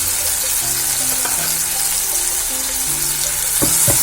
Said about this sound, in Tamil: நல்லா எண்ணெய் மேலே வர வரைக்கும் நல்லா ஃப்ரை பண்ணிக்கிட்டே இருக்கணும்